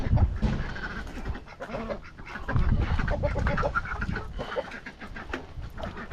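Ducks on a homestead quack in a busy, overlapping flock chatter, fairly close, mixed with rustling and outdoor noise throughout.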